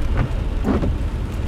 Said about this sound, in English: It's so rainy out. It's rainy and windy.